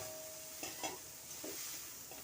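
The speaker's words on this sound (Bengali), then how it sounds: "এখন সয়াবিন ভাজাগুলো আমি তুলে নেব।" Fried soybean chunks sizzle quietly in a pan, with a few soft scraping stirs as a spatula lifts them out.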